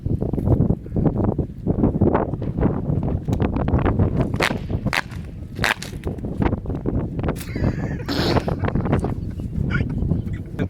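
Strong gusty wind blowing outdoors during a fan tai chi performance, roaring and buffeting the microphone loudly and continuously, with sharp snapping cracks like a fan or fabric flapping.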